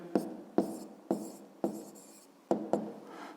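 Answer being written out for a grade-5 math exercise, six separate scratchy strokes of a pen or chalk, each a short rasp followed by a pause.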